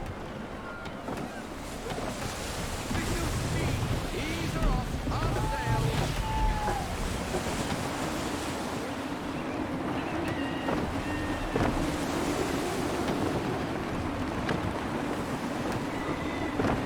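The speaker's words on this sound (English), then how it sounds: "Wind looks to be shifting. Stay alert, Connor. Gusty winds can be difficult to manage." Gusty wind and ocean waves at sea in Assassin's Creed 3, a steady roar of wind buffeting and water washing around a sailing ship, with faint creaks and brief in-game voices over it.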